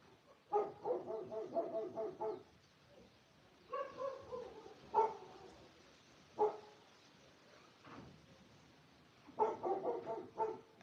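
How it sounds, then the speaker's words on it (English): Dogs barking indoors in bursts of several quick barks, with pauses and a few single barks between, moderately close and alone with no talk. "God, these dogs, dude."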